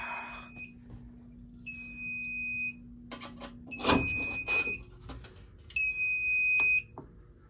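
Fire alarm panel sounding a trouble signal during a system test: a steady high-pitched electronic beep that comes in three repeated tones, each about a second long, with a brief clatter in between and faint room noise underneath.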